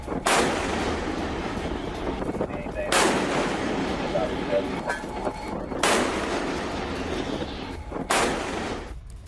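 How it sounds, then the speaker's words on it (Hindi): Heavy naval guns on a US warship fire at an Iranian ship, producing four loud, booming blasts spaced a few seconds apart. Each blast rolls on with a long rumbling tail over steady background noise. "वीडियो में ईरानी जहाज पर फायरिंग की आवाज सुनी जा सकती है"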